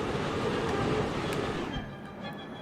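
Train in the video game Forgotton Anne, a loud continuous rumbling roar that fades somewhat toward the end, with no voices.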